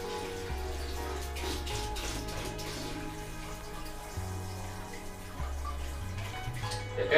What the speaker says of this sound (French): Il y a quand même de l'eau qui arrive.